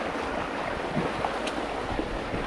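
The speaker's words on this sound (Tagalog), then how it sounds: "sobrang lakas ng hangin" Steady rushing wind noise buffeting the microphone at a fishpond in Rizal, a continuous broadband roar with no talking.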